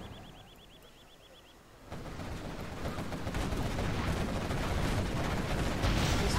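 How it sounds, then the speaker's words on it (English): Artillery platform firing on a tunnel in a real-time strategy game, with dense rumbling barrages and explosions building to loud, continuous gunfire after a quieter opening with a warbling tone. "the artillery platform is shooting on the tunnel"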